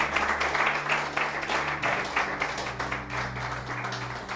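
A church congregation claps for Christ at a Spanish-language sermon, a steady dense patter of hands throughout, fairly loud, with sustained organ or keyboard tones underneath.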